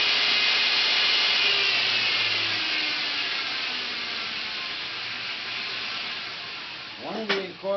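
A full-featured belt grinder running at about 200 feet per minute cuts into steel with a loud, steady abrasive roar, ending in a short, sharper grinding burst; a voice talks over it.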